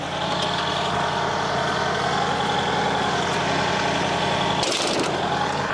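A tractor engine idles steadily close by, a continuous rumbling drone with harmonic hum that stays even for several seconds before a brief rattling disturbance near the end.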